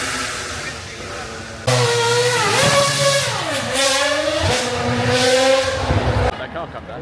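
Race car climbing the Goodwood hill climb at the Festival of Speed, bursting in loud and close with sweeping rising and falling engine pitch as it passes, then cutting off; crowd chatter and voices underneath.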